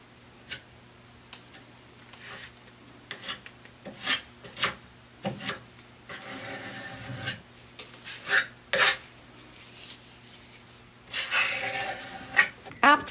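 Hand sanding of Dixie Belle mud filler over particle board on a wood tallboy dresser, heard as intermittent short raspy rubbing strokes of varying length, moderately close and fairly quiet, with no talk.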